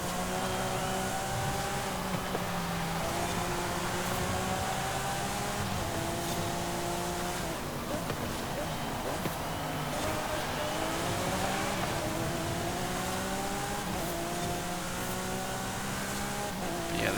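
A Lamborghini Aventador SVJ's engine screams through high revs in the racing game Forza Horizon 5, with loud, continuous rising and falling gear sweeps and shifts throughout.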